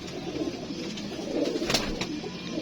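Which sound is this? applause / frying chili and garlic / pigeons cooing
pigeons cooing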